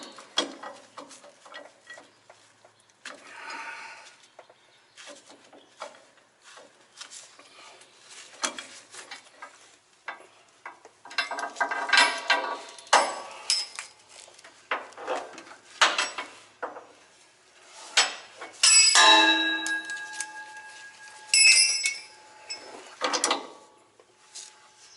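A ratchet strap is cranked tight on a truck in a repair shop, giving bursts of metallic clicking and clattering with pauses between pulls, close and moderately loud, plus occasional clanks.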